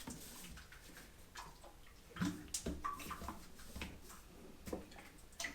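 Tractor oil from a farm supply store trickles into the reservoir of a G&E metal shaper, a faint, soft pouring with scattered light ticks and clunks nearby.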